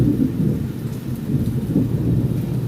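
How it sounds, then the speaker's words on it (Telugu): Steady rain falling with a low, continuous rumble underneath, even and unbroken, no one speaking. "మా ఊర్లో అయితే వర్షం ఎట్లా పడుతుందో"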